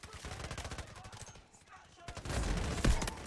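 Rapid automatic gunfire from an SMG-45 in the mobile shooter Delta Force Mobile, with fast bursts in the first second, a short lull, then heavier, louder fire and blasts near the end.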